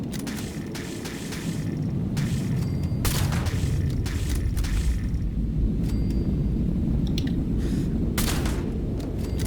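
Video game gunfire in a tactical shooter session, sharp shots cracking over a steady low rumble of ambient battle noise across the whole stretch, several reports spaced irregularly, fairly loud and with no talk over them.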